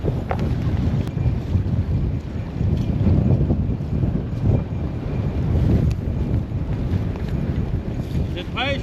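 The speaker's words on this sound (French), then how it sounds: "Il y a beaucoup de vent." Strong gusting wind buffets the microphone in heavy, roaring rumbles on a sailboat approaching a dock, with faint sounds of water and rigging in the background.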